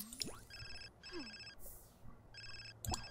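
A mobile phone rings in The Sims 4, its trilling electronic ringtone coming in repeated bursts with short gaps, set among other game sound effects and whooshes, fairly faint overall.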